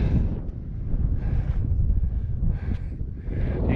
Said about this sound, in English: It's freaking cold, windy.